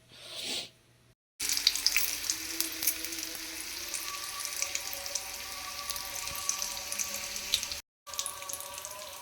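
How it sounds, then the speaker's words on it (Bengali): Chicken tikki frying in a pan, a steady close hiss and crackle of hot oil that runs almost unbroken, with two short cuts of silence. "টিকগুলো ভাজা হচ্ছে"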